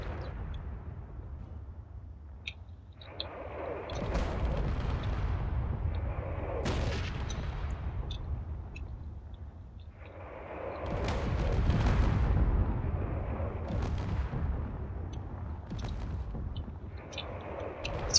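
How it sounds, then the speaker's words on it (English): Cannon fire rages in the space battle game Drone Wars, two long swelling waves of loud rumbling booms and rapid overlapping shots, punctuated by sharp cracks and whooshes, with no talking. "Lots of cannon shots are going away."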